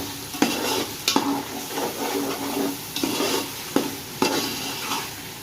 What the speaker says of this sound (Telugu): టమాటాలు మగ్గేంత వరకు ఫ్రై చేసుకోవాలి ఫ్రెండ్స్.